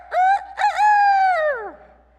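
A rooster crows once, close and loud: two short clipped notes followed by a long sustained call that falls away at the end, with silence around it.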